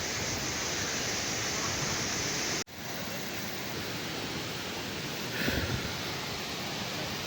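A waterfall near Bhandardara dam roars up close as a steady, loud broadband wash of falling water. It runs without a break, dips for a moment partway through, then swells slightly near the end.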